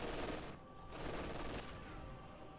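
Distant machine gun fire from overlapping MG positions in Company of Heroes 2, a faint, steady rattling burst under a quiet battlefield ambience.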